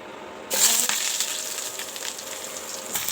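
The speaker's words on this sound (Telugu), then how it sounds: "పాన్ పెట్టుకొని దాంట్లో కొంచెం ఆయిల్ బటర్ వేసుకొని లవంగ చెక్క మొగ్గ ఇలాచి వేస్తున్నాను అనమాట" Cloves, cinnamon and cardamom hitting hot oil and butter in a pan: a sudden loud burst of sizzling that settles into a steady crackling fry, close by, with no voices.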